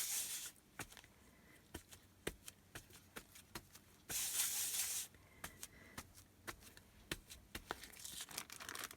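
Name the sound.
spraying a little water onto paint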